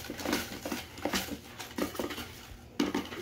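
Paper slips being shuffled and mixed by hand for a prize drawing, giving a close, irregular run of rustling and soft clattering bursts with no talking.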